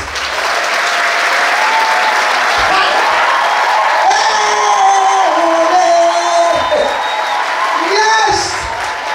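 Audience at a stand-up comedy show bursts into loud, sustained applause mixed with cheers and whoops, filling the room for several seconds with a few shouted voices rising above the clapping.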